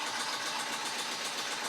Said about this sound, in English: Running a little design in the background on the embroidery machine.